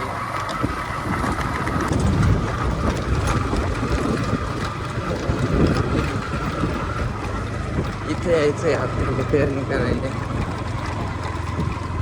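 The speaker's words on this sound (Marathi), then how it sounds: "ते ट्रॅक्टर आणतात आपले घरचे इथून" A tractor engine rumbles steadily in a farm field at sowing time, its low drone running throughout under wind buffeting, while someone talks over it.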